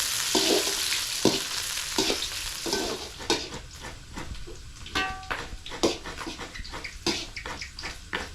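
Balls frying in oil give a bubbling sizzle, with repeated sharp scraping and clattering strokes of a spoon or ladle at irregular intervals, close and moderately loud, no speech.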